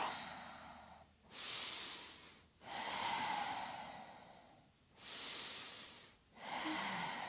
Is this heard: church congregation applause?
no